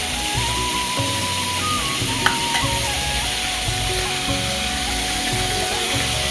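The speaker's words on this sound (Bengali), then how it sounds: "মাছ ভাজা এখনো চলছে" Rupchanda fish fries in a hot pan in a home kitchen, giving a loud, continuous sizzle that stays steady throughout with a faint hum underneath and no talk.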